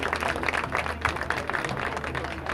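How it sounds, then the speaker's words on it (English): An audience at the Cal South National Cup youth soccer event claps for players as they are introduced, a steady wash of applause from a crowd over a low background hum, with no distinct voices standing out. "Audience, can we get 2 claps for these guys, please, when they go up?"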